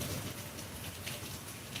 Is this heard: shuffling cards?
no